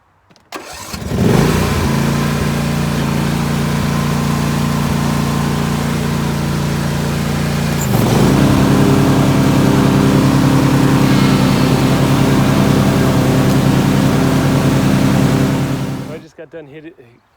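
A 2021 Simplicity Regent lawn tractor starts up and runs steadily while mowing a hillside, its engine loud and close, a sustained droning hum that rises in pitch partway through before cutting off.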